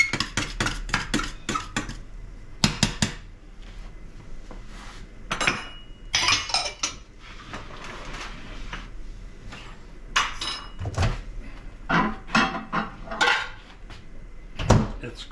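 Plates are taken out of kitchen cabinets in a home kitchen: a string of close, sharp ceramic clinks and clatters, cabinet knocks and handling noises in irregular bursts, with quiet gaps between and no talk.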